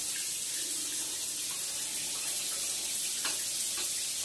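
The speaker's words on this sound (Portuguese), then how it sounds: "Fechei, todo fechado, e ainda continua saindo água." Water keeps running from a rental-house faucet after it is turned off, a steady hissing stream with no pauses that fills the whole stretch at an even, close level.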